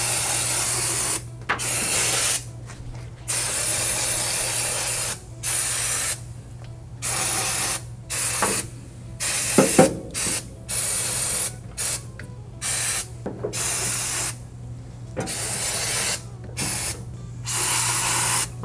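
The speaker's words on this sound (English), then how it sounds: "this is actual degreaser and cleaner and it dries like Brakleen does" An aerosol degreaser and cleaner is sprayed onto still-warm engine manifolds of a C10 truck in repeated loud hissing bursts of varying length, separated by short pauses, over a low steady hum.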